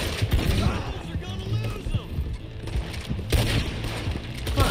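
Gunfire in the Western video game Red Dead Online during a shootout with the law on Old Trail Road, with repeated sharp shots and booms over a busy, noisy game mix with speech throughout.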